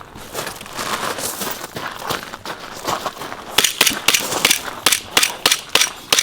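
Airsoft guns fire at an outdoor airsoft game, with a string of sharp, snappy shots in an uneven rhythm, some quick pairs, growing louder and closer toward the end.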